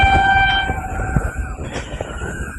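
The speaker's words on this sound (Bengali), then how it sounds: "ফাইনালি ট্রেনটা আমাদের কাছে এসে গেছে" A slow, underpowered train pulls into a small station, its horn tones holding steady early on over a loud, rumbling, clanking approach that stays close throughout with no talk.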